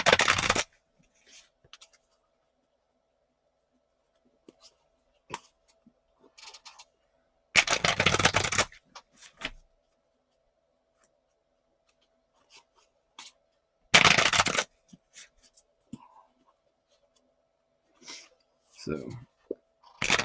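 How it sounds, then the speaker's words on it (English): Several short bursts of rapid riffling cards, separated by long quiet gaps with occasional light taps and shuffling noises, during an APBA Soccer tabletop game. "Now we're going to shuffle them up."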